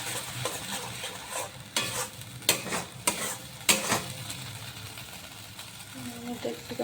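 Food is stirred in a pan in a home kitchen after ground black pepper is added, with repeated scraping strokes and soft sizzling at close range.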